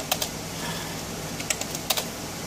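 Keys clacking on an old 486 computer keyboard, a handful of sparse, crisp strikes in irregular bursts over a steady background hum, with no voices.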